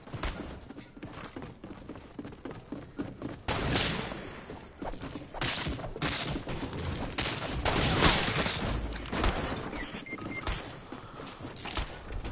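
Rapid bursts of gunfire in a sniper-mode shooting video game, dense cracks and thumps repeating throughout, loud and close with some more distant shots.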